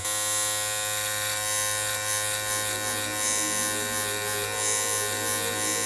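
A close electric beard trimmer runs continuously with a steady, even mechanical buzz and slight shifts in tone as it moves through facial hair.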